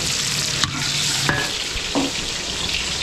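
Chopped garlic and onion sizzle in a hot pan, a steady frying hiss broken by a few sharp scrapes and clinks of a spatula stirring, close and without talk.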